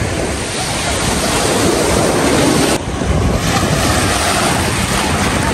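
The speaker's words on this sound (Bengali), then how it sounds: "কত বড় বড় ঢেউ তীরে এসে আছড়ে পড়ছে" Big sea waves crash steadily onto Cox's Bazar beach, a loud, unbroken roar of surf with heavy wind buffeting the microphone throughout.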